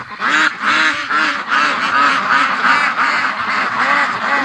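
Muscovy ducks fly into a swamp, and a loud, continuous run of rhythmic hoarse quacks and honking calls fills the clip up close, with no talking.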